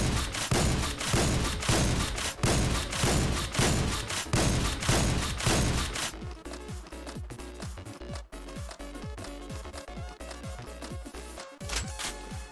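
A 30-30 Justice lever-action rifle fires repeatedly in Call of Duty Zombies, a quick series of loud, evenly spaced booming shots, then a slower run of sharper cracks mixed with mechanical clicks and thuds.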